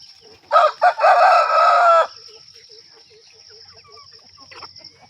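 Country chickens around four months old at a poultry farm: a loud rooster crow up close for about a second and a half, then soft scattered clucks and chirps from the flock against a steady background hum.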